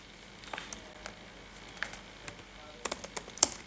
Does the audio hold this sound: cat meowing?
no